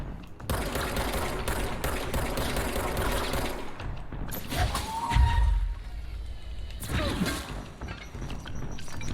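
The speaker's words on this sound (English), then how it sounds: "those are stun grenades" Stun grenades going off in the video game Control amid a dense stretch of rapid bursts, crashes and mechanical clatter, loud and sustained throughout with brief dips.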